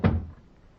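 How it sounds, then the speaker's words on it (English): A door shut as an old-time radio sound effect, one close, solid thunk with a short low rumble that dies away quickly. "Look, close the door."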